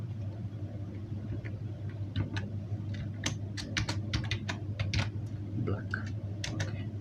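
Clicky computer keyboard keys tapped in quick irregular bursts, close and fairly quiet, over a low steady hum.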